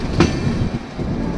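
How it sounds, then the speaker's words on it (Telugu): A Vistadome glass-coach train rounds a curve near Araku Valley, a steady rumble of wheels on rails with a brief squeal, heard from inside the coach with no talking. "ట్రైన్ చూడండి ఎలా చక్కర్లు కొడుతుంది"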